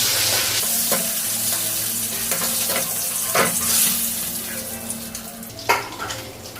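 Fish fries in hot oil in a pan with a loud, steady sizzle. Occasional scrapes and clinks of a utensil break through the close, continuous hiss.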